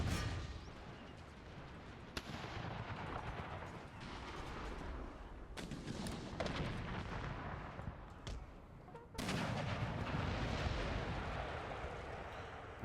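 Cannon artillery booms in the Empire Total War game, a series of sharp blasts fired in irregular succession over a rumbling battlefield din, loud and close.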